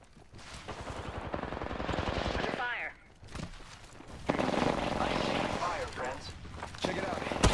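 Rapid automatic gunfire in an Apex Legends arena match crackles in repeated bursts, with a player talking over parts of it.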